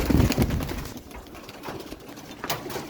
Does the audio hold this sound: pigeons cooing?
yes